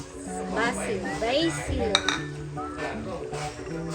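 A utensil stirs pork heart tinola in a pot, scraping and clinking against the metal with repeated close taps and rattles over a low steady background; a voice is faintly present.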